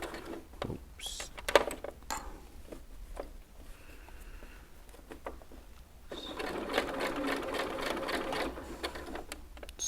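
A sewing machine stitches an ultralight two-person single-walled tent, running in short bursts at first with clicks and handling noise, then settling into a steady, continuous whirr for the last few seconds.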